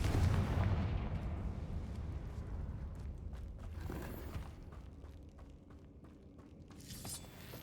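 Confringo blasting spell going off in the Hogwarts Legacy video game: a loud, deep explosive boom at the start that rumbles and fades, followed by softer crackling and clattering game effects.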